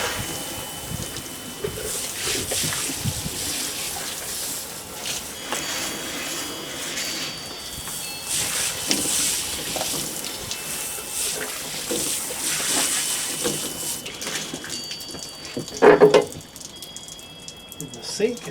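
Water splashes and sprays over an outdoor patio sink during a rinse after cleaning with Lestoil, coming in uneven gushing bursts with brief pauses and a sharper spurt near the end.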